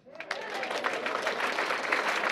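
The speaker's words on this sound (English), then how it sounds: "give him a round of applause" A town hall audience at a health care meeting in Maryland bursts into sustained applause, dense steady clapping that swells quickly and holds for a couple of seconds.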